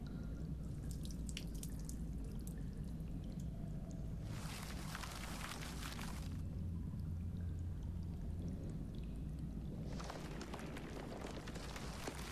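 Water pours from a pot onto planted seeds in Hob's Barrow, heard as a steady low wash with two brighter splashing bursts, quiet and with no talk.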